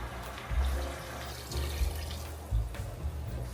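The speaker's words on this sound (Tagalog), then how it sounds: "Pwede na tayo maglagay ng tubig." Water is poured into a cooking pot of pork adobo in a home kitchen, a steady splashing and gurgling stream with a few louder low thuds, fairly quiet and without talk.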